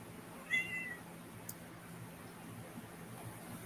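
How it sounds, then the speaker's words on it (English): Single short meow from a pet cat greeting its owner, a brief high cry near the start, followed by quiet room hiss with no talking. "The cat's going to want attention."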